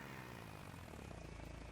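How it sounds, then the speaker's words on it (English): Steady propeller airplane engine drone from the Simple Planes flight game, throttled back to reduced power, holding an even tone at moderate volume throughout with no talk over it. "You notice when you bring the power down, it doesn't change the tone of the engine."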